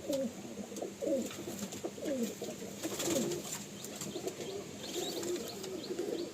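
Pakistani pigeons coo in a crowded loft, repeated soft throaty calls overlapping close by with a faint background hiss and occasional wing rustles.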